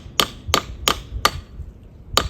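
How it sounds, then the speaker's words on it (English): Rebar hammered into a hole to secure a peg for hanging a swarm trap on a tree, five sharp metallic hammer strikes, four evenly spaced then a pause before the last, close and clear outdoors. "Taking my rebar, I'm gonna put that in the hole and then just hammer that so that's good and tight."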